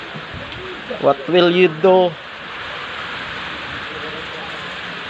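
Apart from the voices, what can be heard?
heavy rain during flooding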